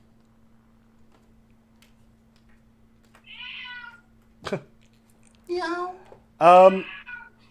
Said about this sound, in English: Cat's hungry.